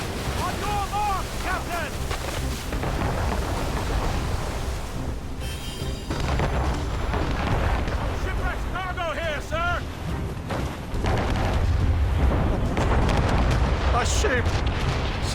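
Deep booming cannon fire rolls across a naval battle in Assassin's Creed Rogue, heavy rumbling blasts over wind and sea noise while voices shout orders throughout.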